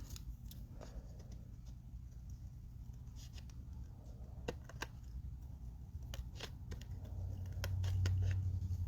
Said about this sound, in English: So I am going to have to go to the side here and cut this off.